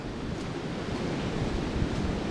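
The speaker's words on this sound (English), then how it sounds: "Can you hear the wind?" Steady, noisy wind rushing and buffeting outdoors, a continuous low roar with no voices, filling the whole stretch at an even level, on a cold day around 45 degrees.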